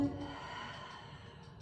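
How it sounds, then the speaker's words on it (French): A long, soft breath is pushed out through the mouth during a Pilates exercise, a close, quiet airy exhale that fades over under two seconds with no speech. "Soufflez par la bouche. Faites passer l'air."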